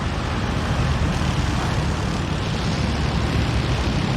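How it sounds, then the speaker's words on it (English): A loud, steady engine roar fills the scene without letup, dense and rumbling like heavy armored vehicles idling and moving nearby: BMP armored vehicle engines in the video game WARNO. "I'm going to get completely drowned out by the sound of these BMP engines."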